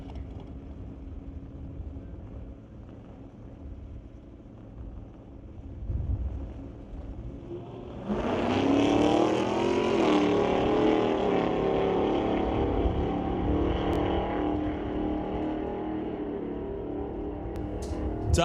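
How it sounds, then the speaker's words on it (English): Drag race cars launching side by side at a sportsman bracket event, a Super B against a Chevelle, their engines rising from a steady idle rumble into a loud, sustained full-throttle roar that holds to the end. "The 12-15-second Super B races against the Zap Strap Racing Chevelle,"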